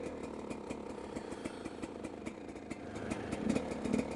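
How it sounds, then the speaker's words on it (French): A motorcycle engine, just restarted after breaking down on a rural ride between fields, runs steadily at close range with an uneven, chugging idle pulse and a slight swell near the end, no voices over it. "Bon, bah la moto a l'air d'avoir redémarré."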